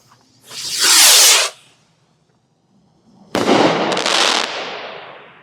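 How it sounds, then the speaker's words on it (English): A ball-shell firework from a Redneck rocket assortment launches with a loud whooshing hiss that lasts about a second, then a second, rougher burst of crackling hiss follows after a short silence. The setting is outdoors. "This is that ball shell. Might get a ring effect on this."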